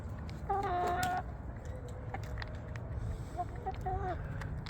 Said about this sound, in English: Crazy chicken.